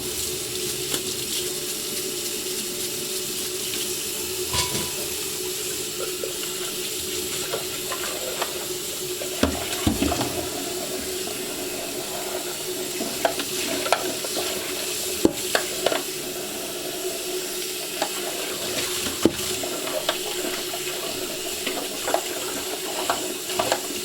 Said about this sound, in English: we're gonna be rinsing for a little bit, so it's gonna be a little bit loud